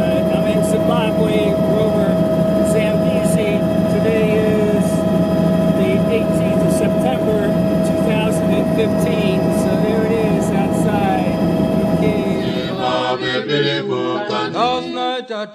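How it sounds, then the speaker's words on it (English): A helicopter in flight over Victoria Falls on the Zambezi River in Zimbabwe gives a loud, steady engine and rotor drone throughout, with music and singing over it near the end. "Currently getting a helicopter, taking a ride over"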